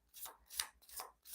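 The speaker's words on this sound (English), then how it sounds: "I'm just shuffling the decks here." Decks of playing cards being shuffled by hand during a live stream, a few quiet rustling riffles in quick succession, close and faint.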